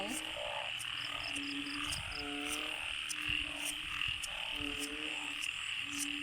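Banded bullfrogs croak during heavy rain in Laos, a chorus of loud, rhythmic, repeated calls pulsing about once a second over a constant hiss of falling rain.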